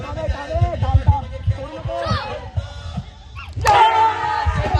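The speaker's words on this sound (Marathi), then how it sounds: "हे आमच्या टीमचा जल्लोष बघा, कारण आमची टीम फायनलला पोहोचली" A cricket team erupts in cheers after taking the last wicket in a tournament semi-final: rowdy shouting voices close by, rhythmic chanting, then a loud surge of whooping and yelling at the end.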